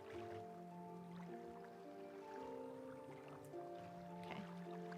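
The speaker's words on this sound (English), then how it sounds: "Where's that water sound coming from?" Faint, steady water trickling and dripping in the fantasy RPG Morrowind, continuous and soft with a quiet tonal background, no voices.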